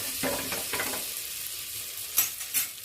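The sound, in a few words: stirring turmeric into melted butter in a pan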